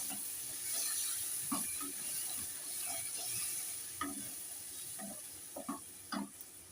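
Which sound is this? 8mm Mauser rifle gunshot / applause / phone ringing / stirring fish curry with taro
stirring fish curry with taro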